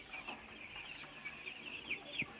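Chickens cluck softly and repeatedly in a pen over a steady background hum, with a few sharper calls standing out near the end.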